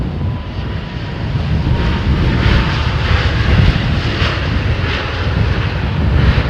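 Airliner jet engines roar at London Heathrow Airport, a loud, continuous rumble that swells and eases slightly throughout, with no talking.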